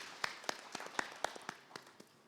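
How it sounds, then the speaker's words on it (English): Scattered, sparse handclaps from a small conference audience at an agriculture dialogue session, a handful of distinct claps spread over two seconds and fading toward the end. "A round of applause, please."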